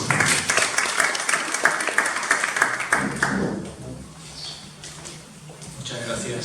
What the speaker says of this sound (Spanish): un gran aplauso para nuestro conferencia